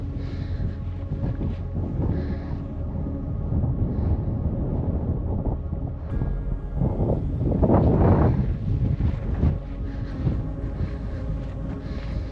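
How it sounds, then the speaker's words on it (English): Strong wind buffets an exposed hillside on a rocky gravel trail near a waterfall at Carding Mill Valley, roaring continuously as a low rumble with microphone buffeting, swelling into louder gusts partway through, with no talking. "It's quite windy up here."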